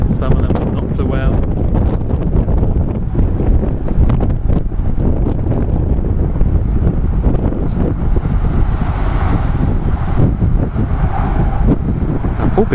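Wind buffets a microphone outdoors on a blustery allotment garden during the tail end of a hurricane, a dense, steady low roar and rumble running unbroken through the whole stretch.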